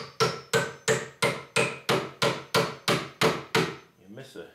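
A small hammer drives nails into a wooden platform bed, ten sharp, evenly spaced strikes ringing out close and loud, then a softer scuffling sound at the end.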